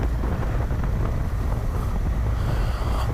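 Honda Africa Twin motorcycle engine lugging at low revs on a desert trail in the Flinders Ranges, a steady low rumble buried under heavy wind buffeting on the microphone.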